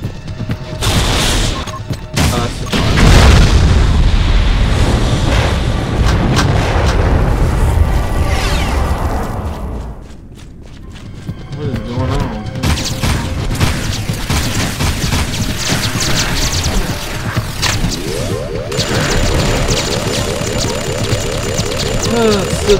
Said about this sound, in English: Still the best weapon in the game, this gun.